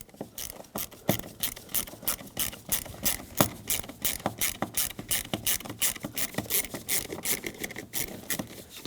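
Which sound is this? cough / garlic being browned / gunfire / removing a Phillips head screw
removing a Phillips head screw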